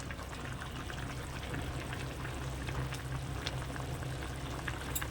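Fried fish simmering in a reduced curry gravy in a Bengali home kitchen, a soft steady bubbling and crackling that continues throughout, fairly faint and close, with no voices.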